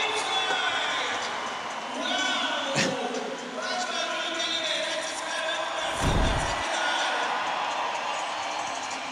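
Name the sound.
crowd cheering at a skateboarding contest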